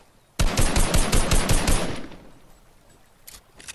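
Rapid burst of automatic gunfire in the video game Fortnite, about a dozen loud close shots over a second and a half, then fading away with a faint later shot.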